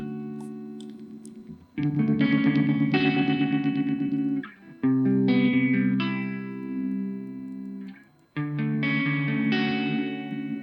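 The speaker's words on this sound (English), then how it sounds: "It is an 8-stage analog phaser with 2 LFOs, one for the first 4 stages and one for the second" An 8-stage analog phaser with two LFOs, one sweeping the first four stages and one the last four, shown at SUPERBOOTH23, swirls over a loud sustained synth tone in three long bursts separated by short gaps.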